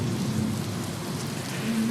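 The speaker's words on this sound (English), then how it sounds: "you begin to hear something you shouldn't hear. Rain, but you're far underground." Rain sound effect played during a tabletop role-playing session, a steady full hiss of heavy rainfall with a low rumble underneath, continuous and without voices.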